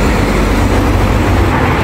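A bus rolls straight past a stop without halting, a loud, steady rumble of engine and road noise that fills the whole moment, close by, with no talking.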